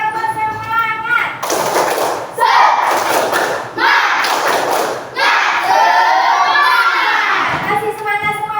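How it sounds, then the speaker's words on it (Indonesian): A class of schoolchildren repeats a rhythmic spirit clap, loud clustered claps and cheering chants in several bursts, with a teacher's voice leading between them. "Sekali lagi, tepuk semangat."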